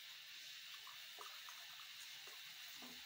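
Water poured into a pot for tea, a soft, faint steady splashing stream heard alone with no voices.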